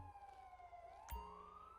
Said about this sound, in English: So we got another ambulance coming here